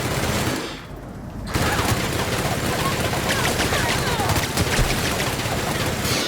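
A minigun fires in the video game The Outer Worlds as a loud, continuous rattling burst that briefly drops out, then resumes as sustained dense automatic fire.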